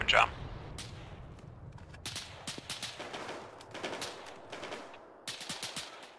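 Gunfire in the ARMA 3 military shooter, with bursts of rapid automatic shots and single cracks repeating through the clip under radio-style chatter.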